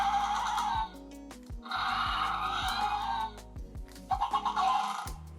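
Electronic creature calls from a Mattel Jurassic World Rebirth Aerial Ambush Quetzalcoatlus toy come through as three loud bursts of high, bird-like screeches over a low, stuttering motor whir, close up with no voices.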